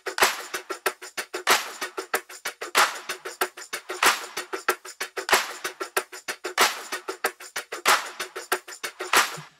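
A layered percussion loop built in Logic Pro plays alone, with crisp, bright hits repeating in a steady, driving rhythm and a punchy accent recurring every bar.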